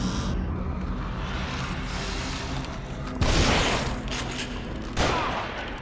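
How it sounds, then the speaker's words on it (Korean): Gunfire from The Evil Within, a zombie horror video game, sits over a dense rumbling background, with two louder bursts of shots that ring out abruptly and then decay. There is no talk. "너 좀 아프게 쏜다"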